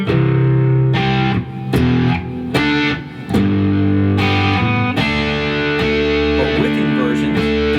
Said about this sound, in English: If I played that chord progression without these inversions, it would sound like this